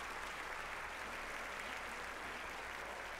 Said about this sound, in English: Plenty of crowd support here.